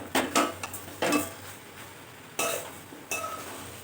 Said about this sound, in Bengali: চিনি দিয়ে ভালো করে নেড়ে চেড়ে